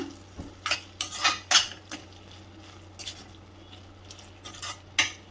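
Prawn gravy seasoned with a little pepper is stirred in a pot with a metal spoon, giving a string of sharp clinks and scrapes against the vessel over a low steady hum, with no speech.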